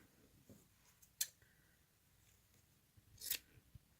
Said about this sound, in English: I'll cut it from here.